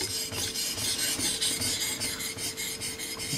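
A blade stroked back and forth across a Belgian coticule whetstone, giving steady, rhythmic rasping scrapes at close range with no talking.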